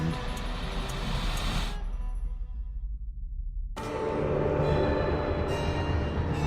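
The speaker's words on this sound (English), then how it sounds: "My Lizzie, what is this train's destination?" A train rolls along in the video game Alice Madness Returns, giving a steady, loud mechanical rumble that briefly thins to a muffled low drone before the full clattering roar returns.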